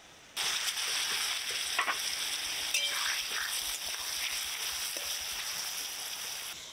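Onions frying in ghee with bay leaf, dried red chillies, whole cumin and whole garam masala, giving a steady, close, loud sizzle that holds from start to finish with no talking.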